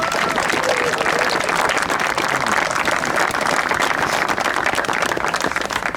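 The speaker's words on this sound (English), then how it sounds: "Let's give her a round of applause." Crowd applause at a Pleasantville stop-the-violence march, honoring a woman who led the march; dense, steady clapping fills the whole stretch at close range, with some voices mixed in.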